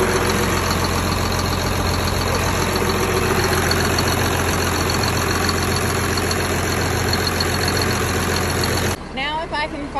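A farm tractor idles with a steady low rumbling drone and mechanical rattle, loud and close for most of the stretch, then drops abruptly near the end as a voice speaks.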